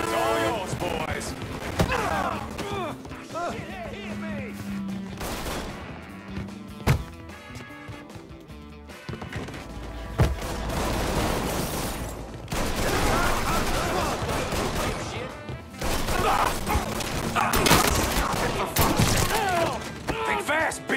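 Gunfire fills a Mafia III street battle, with bursts of shots, thuds and shattering amid game music and effects, while voices talk over much of the action.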